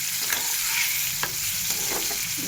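Cumin, ginger and green chili sizzle loudly in hot oil in a pan, a dense continuous crackling hiss broken by a few sharp stirring scrapes, with no talking.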